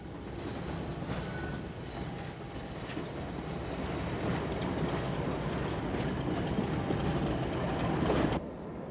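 English Electric Class 50 diesel locomotive running past, a continuous loud rumbling roar with rail clatter building slightly and then cutting off near the end.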